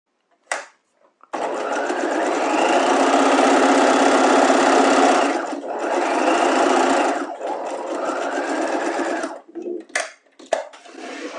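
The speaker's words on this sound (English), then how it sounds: "we'll stay stitch that at 1/4 of an inch as well." Sewing machine running steadily to stay stitch a quarter-inch seam allowance, a close, continuous whirring hum of about four seconds, a brief pause, then a second run, closing with light clicks and handling noises.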